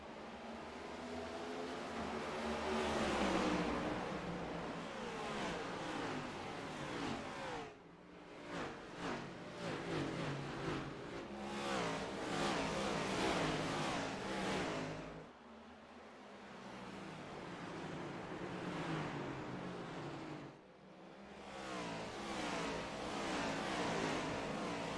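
Race cars at Richmond Raceway in the iRacing simulator, loud engines droning and revving steadily as they lap, with pitch swells, shifts and brief dips as the pack moves around the short oval; no talk.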